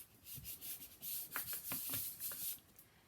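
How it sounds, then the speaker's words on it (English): Soft rubbing and scuffing as paper is pressed down by hand over magnets on a 12x12 scrapbook album page, a faint, uneven series of short strokes with no talking. "now I'm going to just rub it down on top of the magnets"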